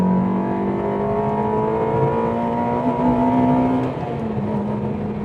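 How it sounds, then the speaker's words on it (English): A Honda Integra DC5 engine drones steadily at motorway speed from inside the cabin, a buzzy tone that holds a constant pitch before easing slightly near the end. "this car is quite buzzy on the motorway"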